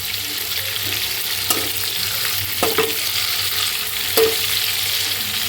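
Shrimp frying lightly in a pan give a steady close sizzle, with a few sharp clinks and scrapes from turning them, and no voices over the cooking.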